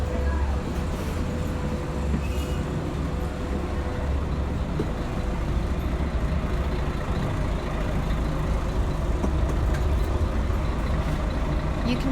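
An old Scania L113CRL bus with Ansair Orana bodywork runs steadily from inside the cabin, giving a continuous low engine drone and rattle with faint background noise throughout.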